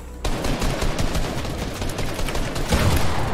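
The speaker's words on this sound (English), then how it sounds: "I'm getting shot from like four different directions." Sustained, loud gunfire in a Fortnite 4v4 Zone Wars tournament, rapid overlapping shots from several weapons forming a dense barrage that starts abruptly and swells near the end.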